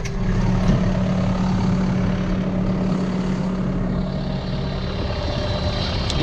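A cold John Deere tractor's diesel engine idles steadily and loudly nearby, a constant low rumble with a faint droning hum throughout.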